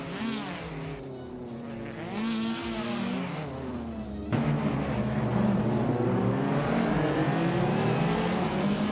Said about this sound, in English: Whip 3out25 is driving a 2014 Abarth 500 Assetto Corsa T